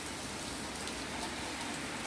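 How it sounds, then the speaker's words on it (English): Heavy rain from Hurricane Delta falling through the night, a dense, steady hiss of drops on surfaces, close and unbroken, with no talk. "It's raining all night long."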